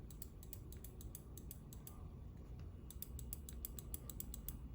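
Rapid series of crisp left-button clicks from a Pulsar Xlite V2 gaming mouse, played in quick bursts with a short pause between groups, close and clear over a low room hum.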